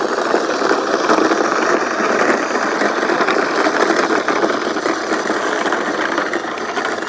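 A 12-wheeled RC carrier truck driving along a road, its electric motor and gears whirring in a steady, loud, continuous grind from close by, with no talking.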